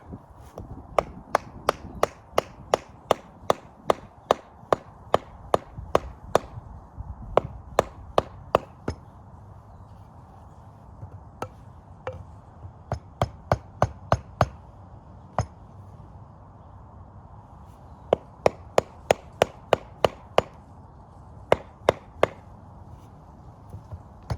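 Sharp, ringing hammer strikes fitting an axe head onto a wooden handle come in irregular bursts of rapid taps with short pauses between, close and crisp.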